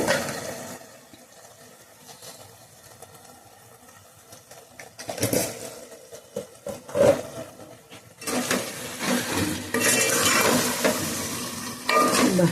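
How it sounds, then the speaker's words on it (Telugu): A spoon stirring a beans and tomato curry in a pan after salt goes in, with scraping and soft sizzling that start quiet and grow louder and busier toward the end. "ఇప్పటికీ కొంచెం సాల్ట్ వేసి కలుపుతానండి"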